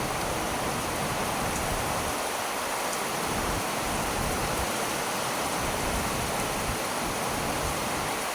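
Rain falls outdoors in a steady, even hiss of drops on surfaces, moderately loud and constant throughout, with no voices.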